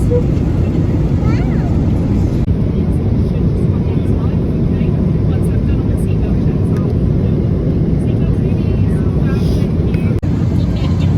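Steady, loud airplane cabin drone on a long, turbulent flight, a dense unbroken rumble filling the whole stretch with faint voices beneath it.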